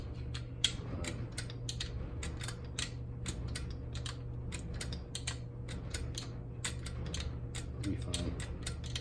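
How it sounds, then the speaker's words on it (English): Socket wrench ratcheting on a carburetor bolt of a Toro mower engine, a long run of quick close clicks in uneven bursts over a steady low hum. "we're taking off the second carburetor bolt"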